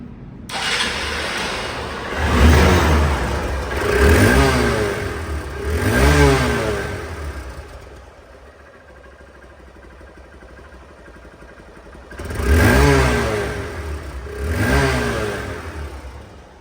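Hero Hunk motorcycle, a 2023/24 second-hand bike, revs its engine in five loud, close bursts that rise and fall, with a quieter idling stretch between the third and fourth.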